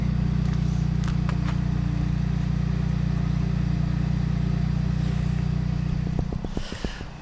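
A Vauxhall GTC VXR idles steadily close by with a deep, constant drone that runs the whole time, then turns rougher and more uneven near the end with a few sharp clicks.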